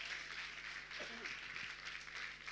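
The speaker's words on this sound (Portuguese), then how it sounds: "Aplausos para Inês." Soft applause from a small church family gathering drifts in at a distance, a faint, steady patter of hands with a brief low murmur partway through.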